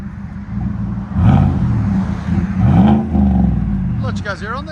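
A 2018 GMC Sierra Denali with a 6.2L V8 and CARVEN R-Series exhaust, resonator deleted and a 5-inch tip, revs in two loud swells over a steady idle rumble, with a brief higher whine near the end.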